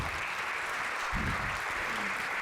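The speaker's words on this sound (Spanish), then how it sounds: "Podéis darles un aplauso que llevan corriendo un poquito." Audience applause at a sports coaching training session in a hall: a steady, dense wash of clapping that carries evenly through the whole stretch.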